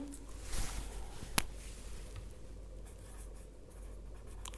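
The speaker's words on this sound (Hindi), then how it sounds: "अब हम कुछ रिमार्क लिख लेते हैं यहाँ पे।" A pen or marker scratching out remarks on a board during a maths lesson on definite integration, quiet and close with a single sharper tap partway through.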